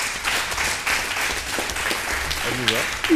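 A crowd applauding during a televised French-language talk program, a continuous crackle of many hands under an ongoing voice, with a brief spoken exclamation near the end.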